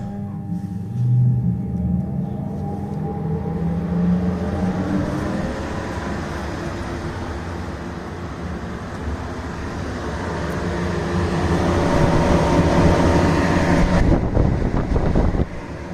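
A grain winnowing machine (fan-type grain cleaner) starts up and blows, giving a steady broadband rushing roar of air and machinery that grows louder toward the end, with no talk.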